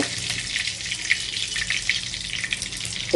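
Bay leaf and whole spices sizzling in hot oil for tempering, a steady close frying crackle with a bright hiss that runs without a break and swells slightly at the very end.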